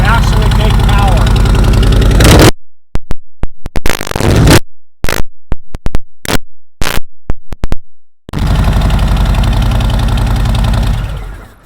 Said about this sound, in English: So this is no mufflers, and I mean it's not as raspy when I rev it up